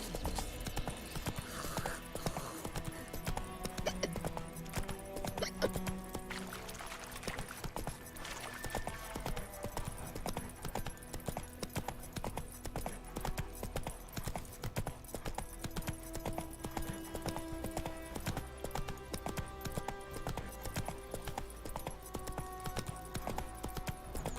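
Geralt's horse Roach galloping in The Witcher 3, a continuous rapid clip-clop of hooves running throughout, with game ambience and music underneath.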